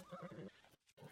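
Horse neighing in the video game Tears of the Kingdom: a single loud whinny with wavering, pulsing tone for about half a second, then a brief dip and a return of similar sound, close and prominent.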